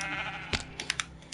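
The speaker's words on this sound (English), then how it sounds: "Ooh, I found another sheep." A sheep in the Minecraft video game bleats up close, a short nasal bleat followed by a few quick clicks, heard alone without talk.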